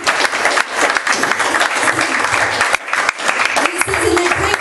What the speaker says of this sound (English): Give Him a hand clap